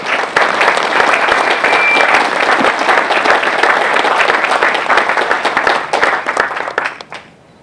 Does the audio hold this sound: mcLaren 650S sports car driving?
no